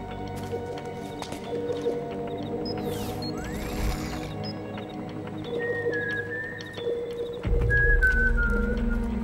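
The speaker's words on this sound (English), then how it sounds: "They all whistle the same melody." Soldiers in the stealth video game Metal Gear Solid 4 whistle a tune in short, wavering phrases over game ambience and low rumbling, with the whistling rising and falling in pitch across the passage.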